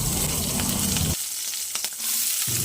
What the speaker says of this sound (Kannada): ಎಣ್ಣೆ, ಸಾಸಿವೆ, ಕರಿಬೇವು, ಹಸಿಮೆಣಸು